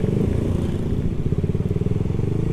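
A lowered Suzuki GSX S150 motorcycle with a carburettor and swapped rims, its engine running with a loud, steady, throbbing low rumble while riding.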